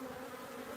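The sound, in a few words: honeybees buzzing at hive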